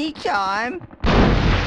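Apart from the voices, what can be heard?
bazooka shot and explosion destroying targets in Hogs of War video game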